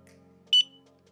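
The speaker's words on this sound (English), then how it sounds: "and then we hear that little beep" A Symbol CS4070 Bluetooth barcode scanner gives a single short, clear electronic beep after pairing, heard close over a faint background hum.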